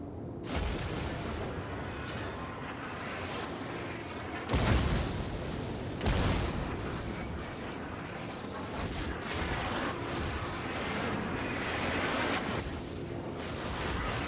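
Warship main battery guns firing shells in the naval game World of Warships, heavy booms rolling out in several loud bursts over a continuous rumbling battle din, with no speech.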